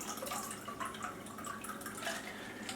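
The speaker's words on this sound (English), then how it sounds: "We're just going to pour that in this liquid measuring cup up to 3/4 of a cup." Ice water pours into a liquid measuring cup, a steady trickling and splashing stream with small drips, close and fairly quiet, with no talking.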